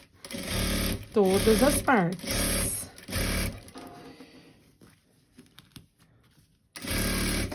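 A domestic sewing machine stitches a zipper into a fabric pouch in short loud bursts with pauses between. Someone speaks between and over the runs.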